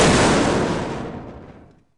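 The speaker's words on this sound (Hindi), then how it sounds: "पटाखे में एक जोरदार धमाका होता है" A loud firecracker blast in a cartoon booms right up close, its roar decaying steadily over two seconds into silence.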